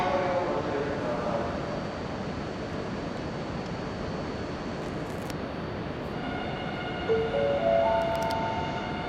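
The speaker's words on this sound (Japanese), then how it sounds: "まもなく上り電車が通過しますご注意ください" A Tohoku Shinkansen E5 Hayabusa coupled with an E6 Komachi passes at very high speed through Utsunomiya Station at night, with a steady broad mechanical roar and a few high tonal squeals and bell-like tones rising near the end.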